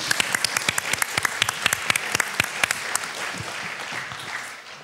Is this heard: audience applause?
yes